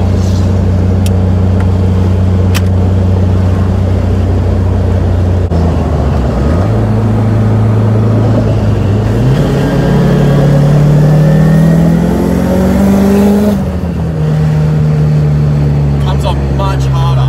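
Nissan S15 widebody running 360 horsepower, engine note climbing steadily through the revs with a gear change midway, loud and close from inside the car, with a turbo-like whine over the drone.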